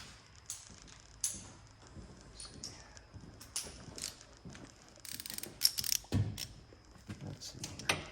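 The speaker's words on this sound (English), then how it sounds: "I'll get the torque wrench out a little bit for that" Torque wrench ratcheting on a bolt of a 2020 Harley-Davidson Road Glide custom bagger, quiet scattered clicks and metallic taps in a workshop, with a denser burst of ratcheting later on.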